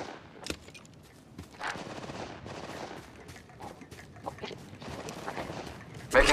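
Gunfire in the mobile battle royale game Apex Legends Mobile cracks out in sharp separate shots and short bursts, spaced through the clip, with a loud burst at the end.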